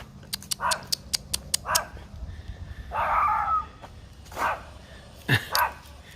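A tough little Chihuahua barks sharply on a city street, a quick run of high yips followed by a few louder bursts and a growl, close by with street noise underneath.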